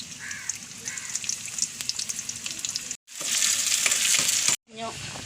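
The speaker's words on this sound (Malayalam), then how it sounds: "കാഞ്ഞ് എണ്ണ ഒഴിച്ചിട്ടുണ്ട്. അപ്പോൾ ഉള്ളി ഇടണം." Onions dropped into hot oil in a clay pot sizzle and crackle steadily, close and loud, with brief gaps where the sizzle cuts out before resuming with stirring.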